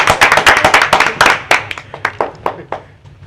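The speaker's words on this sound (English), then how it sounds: "That deserves a hand clap of praise." Hand clapping in praise at a county commission meeting, a small group of people clapping close and loud, tapering to a few scattered claps by the end.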